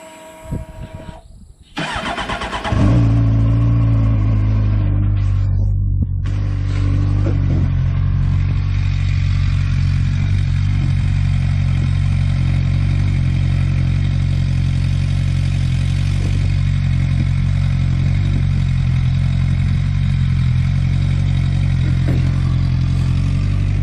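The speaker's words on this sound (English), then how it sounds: "I guess I'll go ahead and start it up so you guys can hear it." Stock 2008 Suzuki GSX-R600 motorcycle with its muffler removed cranks over and fires into a loud, raw idle that settles into a steady, rumbling drone for the rest of the clip.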